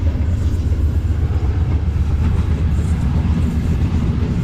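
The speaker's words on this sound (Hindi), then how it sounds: "13 अप आवाम एक्सप्रेस पास कर रही है मीटिंग से।" The 13 Up Awam Express rolls through Meting railway station, a loud, steady low rumble of wheels and carriages with no break across the whole stretch.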